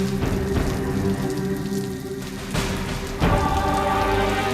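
Steady rain falling and pattering on surfaces, a dense continuous hiss with a few soft knocks, heard alone without any voices.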